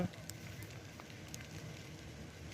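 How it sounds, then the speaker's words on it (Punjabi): A large fire burns at the Doraha electricity grid station, giving a steady roaring, rushing noise with scattered crackles and pops, sounding continuous and fairly close. "ਦੁਰਾਹਾ ਬਿਜਲੀ ਬੋਰਡ ਵਿਖੇ ਬਹੁਤ ਹੀ ਭਿਆਨਕ ਅੱਗ"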